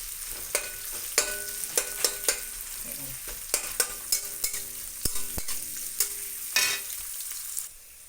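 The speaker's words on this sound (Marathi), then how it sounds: "चला चांगला कांदा फ्राय करून घेते जरा" Onion frying in a pan on a gas stove, with a constant sizzling hiss under repeated sharp spatula clacks and scrapes in an uneven rhythm, heard up close.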